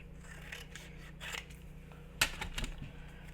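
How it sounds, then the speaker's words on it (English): Large scissors cut through paper in a quiet craft room with a low hum, giving one crisp snip followed by a few softer crunching cuts. "I'm going to cut that. My big monster scissors."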